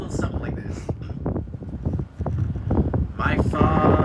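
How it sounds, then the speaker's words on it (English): Gusty wind buffets the microphone aboard a boat on a puffin and seabird tour near Bay Bulls, Newfoundland, rumbling and rising toward the end while a person talks over it. "Oh, no, it's still windy."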